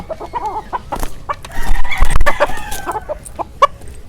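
Fighting roosters on a game farm crow and cluck loudly and close, several birds overlapping in a busy burst with a brief rustle midway and no talking.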